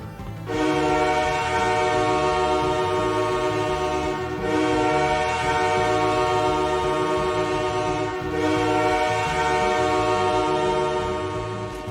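A loud, sustained NHL hockey goal horn blares in long continuous blasts, deep and droning like a train horn, with brief dips between.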